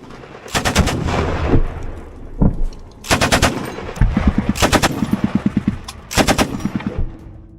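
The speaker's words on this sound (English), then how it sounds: "the Ukrainian soldier uses a variety of weapons and grenades while fighting in the trench" Trench battle in Ukraine with bursts of automatic gunfire and single shots, loud and close, coming in several separated volleys with brief lulls between them and no voices.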